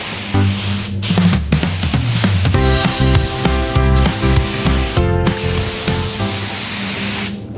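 Spray gun laying a wet coat of lacquer onto cabinets, a loud continuous hiss close by that pauses briefly between passes, with a tonal compressor-like hum running underneath.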